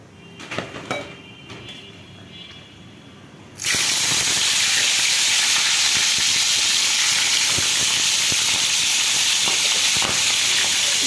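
Fish hitting hot oil in a pan after salt is added sets off a sudden loud, steady sizzle and hiss that keeps going without a break, following a few quiet clinks and handling noises.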